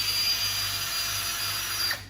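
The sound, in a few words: drill drilling a hole through bone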